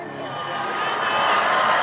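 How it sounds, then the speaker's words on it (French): A large crowd cheers and applauds at Donald Trump's election-night victory, a loud roar that swells steadily toward the end. "De longues minutes s'écoulent sous les applaudissements"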